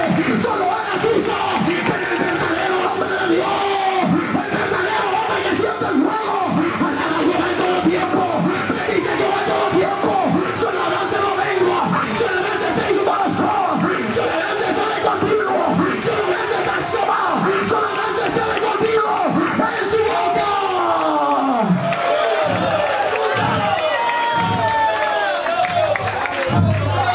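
A Spanish-speaking Pentecostal church congregation shouting during a service, a loud continuous mass of overlapping yells, cries and cheers with some voices rising above the roar, close and unbroken throughout.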